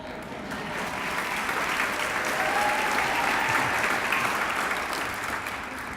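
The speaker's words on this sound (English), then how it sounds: "You hear the applause" An audience at a high school academic achievers awards ceremony applauds steadily, a dense, sustained wash of many hands clapping that holds at an even level for several seconds.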